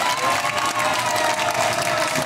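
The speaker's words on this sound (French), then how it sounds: "Un maximum d'applaudissements pour Marina" Dense applause from a studio audience on a French talk show, mixed with crowd noise and some cheering, continuous and fairly loud throughout.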